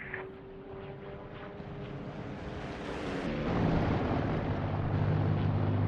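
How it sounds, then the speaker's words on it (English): Propeller aircraft making a flyby in the DCS flight simulator game, engine drone rising and swelling as it passes close, with a deepening low tone and wind noise after the peak. "Stand by for flyby."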